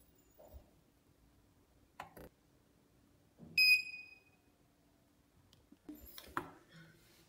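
A K68 signal detector for counter-surveillance gives a short burst of high electronic beeps near the middle, set among a few soft clicks and handling knocks in an otherwise quiet room.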